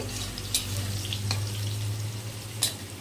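Potatoes frying in a pan for a teasel gourd dish, with a steady, close oil sizzle running throughout and a few brief scraping clicks of stirring.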